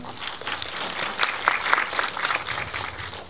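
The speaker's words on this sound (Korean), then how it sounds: "여러분 박수 부탁드립니다" An audience at a screening event for the film Door Lock breaks into steady applause, a dense continuous wash of clapping heard close and fairly loud for a few seconds.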